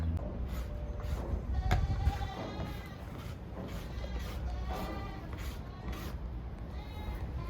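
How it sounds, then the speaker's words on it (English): A miniature billy goat bleats several times in a wavering, nasal call close by at a farm, with livestock noise and people talking around it. "We'll have a miniature billy goat."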